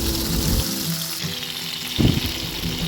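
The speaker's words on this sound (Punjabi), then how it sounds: "ਸਾਰੇ ਪਾਸੇ ਆਪਾਂ ਇਹਨੂੰ ਫਰਾਈ ਕਰ ਲੈਣਾ ਹੈ" Long eggplants shallow frying in an oiled pan give a steady, close sizzle that swells briefly near the end as pieces shift or are turned, with no talking.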